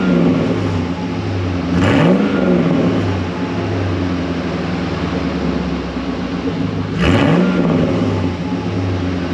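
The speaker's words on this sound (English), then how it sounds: "this guy now has two high flow cats into that one straight through cherry bomb muffler, and sounds quite a bit tougher" An LS-swapped Land Rover Discovery with two high-flow cats and a straight-through Cherry Bomb muffler idles loudly up close, blipping the throttle twice in quick revs that rise and fall about five seconds apart.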